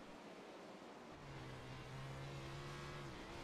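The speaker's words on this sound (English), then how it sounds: "Listen to that car rev on the cushion" A World of Outlaws sprint car engine revving hard on the cushion of the Eldora dirt track, heard onboard as a loud, continuous high-pitched roar whose pitch climbs and holds steady through the whole stretch.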